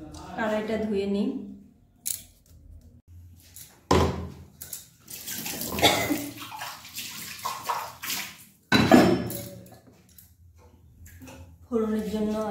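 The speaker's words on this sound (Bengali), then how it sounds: "কড়াইটা ধুয়ে নিই।" Running tap water splashes into a wok (kadai) as it is rinsed in a home kitchen, coming in several separate gushes and bursts with quiet pauses between them.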